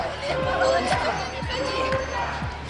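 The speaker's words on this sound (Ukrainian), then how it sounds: "Довкола суду натовп прихильників Тимошенко." Crowd of Tymoshenko supporters outside the court, a dense murmur of many voices with rhythmic thuds, close and busy, under a reporter's voice.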